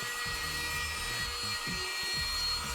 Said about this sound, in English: Let's turn on the vac and show you how good it is.